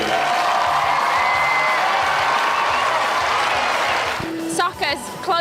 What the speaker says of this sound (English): give a round of applause to the referees that are coming here to do this race